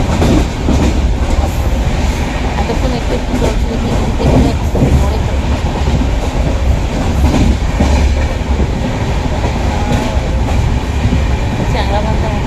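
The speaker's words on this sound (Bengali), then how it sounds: "জোরে ট্রেনটা ছেড়েছে।" A train pulls away along the tracks with a loud, continuous rumble and rattle of carriages heard from inside, and a brief spoken remark rises over the noise.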